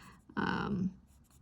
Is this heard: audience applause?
no